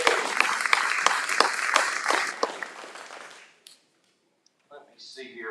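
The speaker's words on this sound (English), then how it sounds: "Give her a round of applause." Dense audience applause at a live auction, loud and steady with sharp individual claps for about three and a half seconds, then dropping off to near silence and a few faint sounds.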